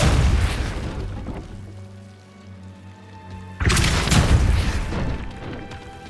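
A Repulso spell blast from Hogwarts Legacy bursts out as a loud booming whoosh, fades to a quieter hum, then a second strong blast surges and rumbles on.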